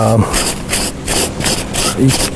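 Sandpaper rubbed across shaped foam for an Asian elephant skull and rib cage armature, a loud, close rasping scrape in repeated back-and-forth strokes of roughly half a second each, with no talking.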